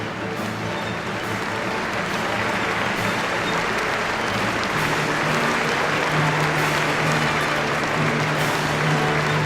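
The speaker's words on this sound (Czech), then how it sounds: "Skvělé a pořád tleskají." An audience applauds steadily after a concert, a dense, loud, continuous wash of clapping from a large crowd with no break.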